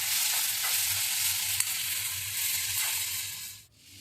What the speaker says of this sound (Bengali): এবং এখন দিয়ে দিচ্ছি কেটে রাখা পেঁয়াজ, রসুন, কাঁচা লঙ্কা। দিয়ে দিচ্ছি একটু হালকা তেল, ভালো করে মিক্স করে নেব।